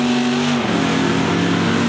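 An old Ford Thunderbird drag racing down a quarter-mile strip at an NHRA event, its loud engine roaring steadily and dropping in pitch as it shifts mid-run.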